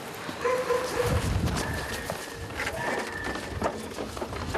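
A police dog in training barks and whimpers at a training ground, giving short yips and whines over steady outdoor noise, with scattered movement sounds and no clear talk.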